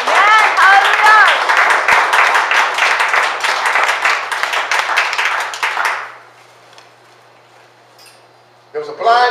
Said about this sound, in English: Clap your hands for Jesus right now.